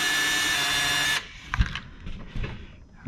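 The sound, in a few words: power drill removing screws from RC car chassis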